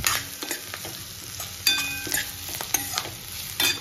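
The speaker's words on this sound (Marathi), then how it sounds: "छान असं आपण तेलात भाजून घ्यायचे ते कूट." Crushed peanut powder roasting in oil in a pan for sabudana khichdi, with a low steady sizzle and repeated sharp scrapes and taps of a spoon stirring against the pan.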